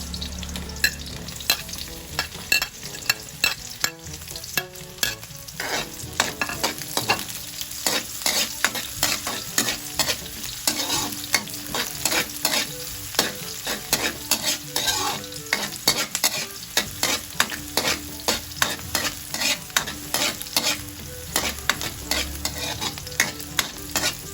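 Garlic and onion sautéing in a pan for squid cooked in coconut milk, a close, steady sizzle broken by rapid, rhythmic spatula scrapes and stirs that continue through the whole stretch.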